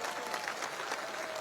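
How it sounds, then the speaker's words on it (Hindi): A rally crowd claps together in a brief, dense burst of applause, heard from a distance. "ताली बजाओ भाई"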